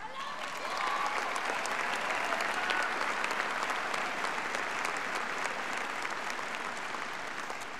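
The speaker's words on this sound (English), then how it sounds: "So let's give your heroes a big round of applause." Steady, evenly spread applause from a large audience at a high school graduation ceremony, a soft continuous wash of clapping heard from a distance with no standout voices.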